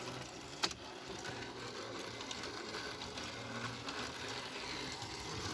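A Lego Futuron Monorail 6990 toy train runs along its track with a faint, steady motor whir, close by and alone, with one brief click near the start.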